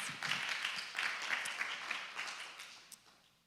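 Moderate applause from an audience welcoming a speaker at a talk on curbing carbon emissions in dining, with scattered claps that thin out and fade toward the end.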